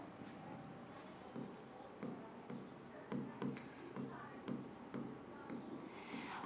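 Chalk or marker scratches across a classroom board during a biology lesson, a series of short close strokes in uneven bursts, with faint speech underneath.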